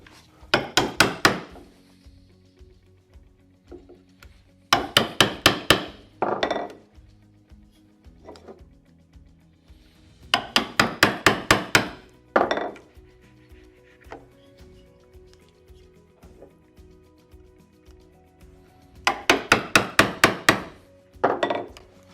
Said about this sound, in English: rather than starting right at that scribe line, I'm going to start toward the center, remove that waste